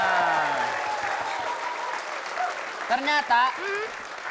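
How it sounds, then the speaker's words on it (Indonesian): Studio audience at an Indonesian comedy show breaks into applause, a dense steady wash of clapping with brief voices and a rising whoop near the end. "Tepuk tangan dulu. Tepuk tangan buat kita semua."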